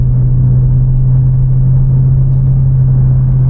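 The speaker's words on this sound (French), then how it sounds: "il n'y a pas un bruit à part le moteur parce que maintenant il y a la ligne d'échappement" Inside a V8 car with a 300 hp engine and exhaust line cruising at 80 km/h, a loud, steady low engine drone hums continuously with a strong constant tone and no voices.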